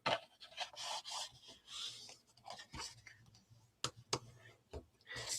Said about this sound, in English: fold towards the bumpy and burnish